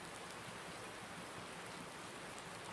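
Rain falls steadily in Farming Simulator 19, a dense, even hiss of drops with no breaks, close and uniform throughout.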